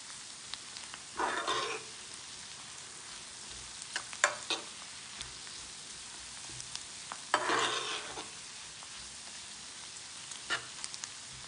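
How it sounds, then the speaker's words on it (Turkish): Onions with salt sizzle softly in a frying pan while a spoon stirs them, giving two longer scraping bursts and a few sharp taps over a quiet frying hiss. "Ve tekrar karıştırıyorum."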